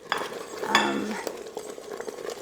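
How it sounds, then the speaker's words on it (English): Cubed cream cheese stirred into chicken in an Instant Pot, with a spoon scraping and clinking against the pot in a few short, close strokes and a brief rising squeak. "Go ahead and just stir it in."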